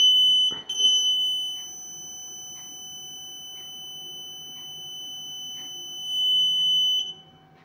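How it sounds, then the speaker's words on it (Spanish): Piezo buzzer on a parking assist circuit prototype emits a steady high-pitched continuous tone, with a brief louder burst near the start and a swell toward the end, mostly alone with faint background clicks. "cuando alejas la mano más de 15 centímetros, pues el zumbador, el piezo eléctrico, pues deja de sonar"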